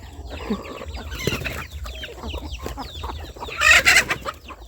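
Chickens cluck in short, scattered bursts close by, and a rooster crows loudly near the end over quiet background noise.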